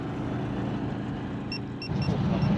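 A turbocharged car engine idles steadily and close, a low continuous rumble with a few faint high tones partway through.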